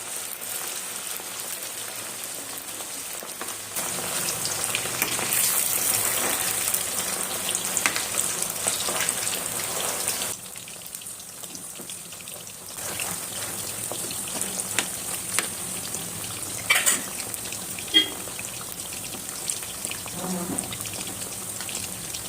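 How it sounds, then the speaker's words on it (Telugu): Chicken pakoda deep-frying in hot oil at a street food cart, with a continuous loud sizzle broken by sharp crackles and pops as the oil splatters, steady throughout with brief surges. "మెల్లిగా చూసి వేసుకోవాలి, ఆయిల్ చిట్లు పడుతుంది."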